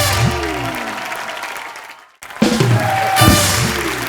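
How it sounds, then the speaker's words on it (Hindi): Studio audience applause for child performers Masoom and Palden on a comedy talk show, loud sustained clapping that breaks off briefly, then resumes with cheering and background music. "जोरदार तालियां मासूम और पाल्डेन के लिए"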